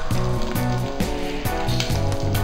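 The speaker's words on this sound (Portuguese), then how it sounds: "Terminando de fritar aqui o bacon" Bacon sizzling in a frying pan: a loud, steady crackling hiss throughout, with repeated tonal scraping or stirring scrapes about every half second, close up and with no talk.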